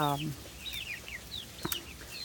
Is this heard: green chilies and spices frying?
no